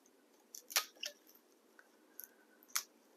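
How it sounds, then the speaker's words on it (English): A blade cuts the rotten part off a liatris corm, giving a few faint, close, crunchy snips in two short clusters over quiet. "So I'm just going to kind of cut that portion off."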